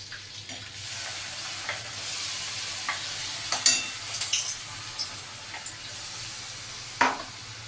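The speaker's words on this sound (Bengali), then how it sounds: "ওই তেলে আমি আদা, রসুন, পেঁয়াজ একই সঙ্গে পেস্ট করা এটা আমি দিয়ে দেব" Ginger, garlic and onion paste fries in hot oil with a steady close sizzle, broken by a few stirring scrapes and clinks along the way.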